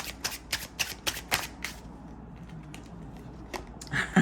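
Tarot cards shuffled by hand in quick, crisp riffling bursts, about six in a row, then softer handling and a few scattered card sounds, close and with no talking.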